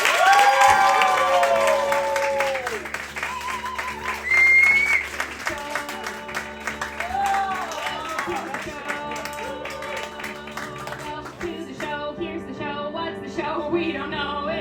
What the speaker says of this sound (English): put your hands together and preferably clap in a clapping motion for the show with Matt Leazer.